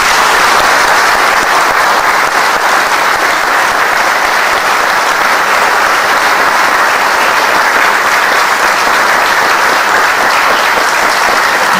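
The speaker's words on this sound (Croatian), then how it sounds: "Zahvalimo još jednom velikim aplauzom." An audience gives a long, loud round of applause at a commemoration of the 153rd brigade, dense sustained clapping filling the whole stretch with no talk.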